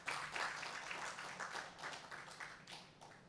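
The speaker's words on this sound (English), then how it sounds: "Please give him a round of applause." Faint, distant audience applause at a certificate ceremony, a soft rushing patter of many hands that swells briefly and then gradually thins.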